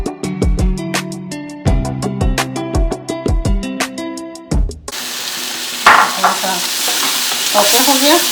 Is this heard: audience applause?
no